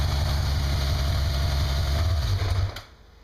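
A Yamaha XJ550 motorcycle engine idles with a rough, even putter close by, then stalls and cuts out abruptly about two and a half seconds in once the choke is applied, leaving near silence.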